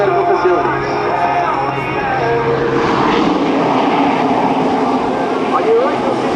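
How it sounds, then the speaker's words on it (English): A twin-engine C-23 Sherpa transport aircraft flies a tactical low-level arrival at an Air National Guard airshow, its propeller engines giving a loud sustained drone that swells as it passes, heard outdoors with broad crowd and wind noise. "On your right, you'll see our twin-engine C-23 Sherpa, commonly known as the Boxstar, demonstrating the tactical low-level arrival."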